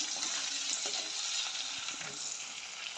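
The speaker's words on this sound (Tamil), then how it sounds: "இப்போ எல்லாத்தையும் வந்து எண்ணெயில் நல்லா வதக்கி விடுவோம்" Curry leaves and onions sautéing in oil for a Jaffna crab curry, a continuous bright hissing sizzle with faint stirring scrapes underneath, close and steady throughout, no talking.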